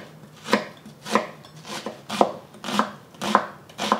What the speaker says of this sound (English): Have 1 small onion that I'm just gonna chop up